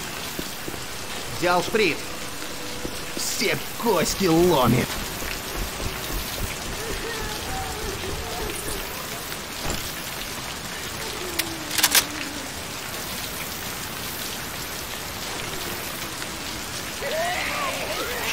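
Steady rain hisses through a stretch of the Left 4 Dead 2 Hard Rain campaign, a constant wash under a voice talking, with occasional brief sharper bursts of game noise.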